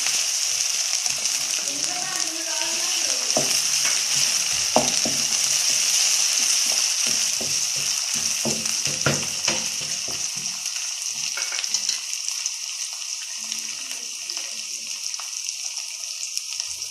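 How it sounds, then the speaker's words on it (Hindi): Onion and garlic sizzle steadily in a hot pan for a baingan mooli sabzi, then tomato goes in, bringing a few stirring clatters and a brief splash-like burst, with a faint voice now and then. "अब ये प्याज और लहसुन फ्राई हो गया है, इसके अंदर मैं डालूंगी बड़े साइज का टमाटर।"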